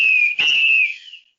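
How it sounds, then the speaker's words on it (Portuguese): A referee's final whistle at an amateur football match sounds one long, loud, shrill blast with a brief dip partway through, then trails off into silence. "Apito final no Boleirão de hoje."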